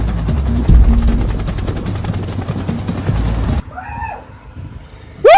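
A rescue helicopter's rotor chops loudly and steadily for several seconds, then cuts off abruptly into a quieter scene.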